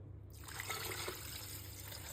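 Water pours steadily into saffron-tinted rice in a pot, about 1.5 liters over roughly 1.5 kilos of grain, a continuous close splashing trickle with no talk.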